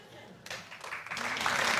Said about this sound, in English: What are they clapping?